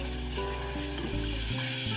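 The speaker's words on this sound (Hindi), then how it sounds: "मिल्क डाल के आप तेजी से चमचा चलाएं" A spoon stirs quickly through pasta sauce as milk is added, a steady close bubbling and scraping swirl with a frying sizzle underneath, no voices.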